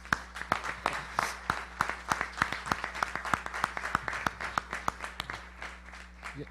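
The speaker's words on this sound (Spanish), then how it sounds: "Un aplauso, pues" An audience claps at a panel event with government, civil society and university speakers, a thin, fairly sparse round of distinct hand claps in a steady rhythm, fairly close and continuing throughout.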